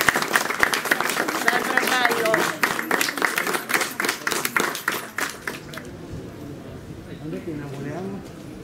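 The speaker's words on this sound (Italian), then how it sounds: "Un applauso, un applauso." Audience applause at the opening of a festival event in the Italian village of Casoli, dense clapping for several seconds alongside voices, then thinning into scattered claps under continued talk.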